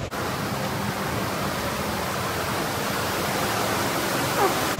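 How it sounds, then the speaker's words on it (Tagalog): A waterfall runs inside Lamprechtsofen, a show cave, giving a steady, even rush of falling water that fills the whole stretch without a break or change in level. "Tubig nga yung maririnig mo."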